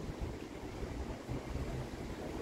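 Wind blows outdoors at Kyiv's Golden Gate, a faint, steady rushing buffet of air across the microphone with no voices.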